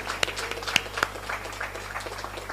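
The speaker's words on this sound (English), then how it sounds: "Please clap for him." An audience at a university gender awareness day event applauds in scattered, moderate clapping with a few sharper individual claps, heard at some distance over a steady low hum.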